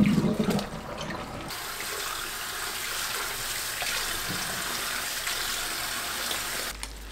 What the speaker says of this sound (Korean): 찬물에 씻고 체에 받쳐줍니다.